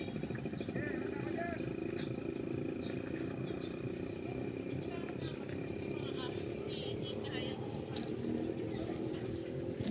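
A motorcycle engine runs steadily during a ride, a continuous low rumble with wind and road noise, while people talk over it.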